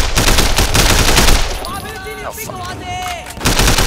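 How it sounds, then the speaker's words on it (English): Gunfire in the Sleeping Dogs action video game plays as a loud, rapid automatic burst for over a second, followed by a brief lull with game voices, then more shooting, while a player swears. "I'm guessing you can just continuously shoot him for fun."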